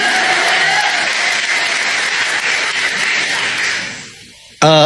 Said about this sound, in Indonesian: Jadi tepuk tangan dulu yang meriah buat kalian.